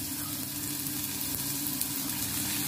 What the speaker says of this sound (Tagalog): lagyan natin ng toyo para magkaroon lasa yung ating sibuyas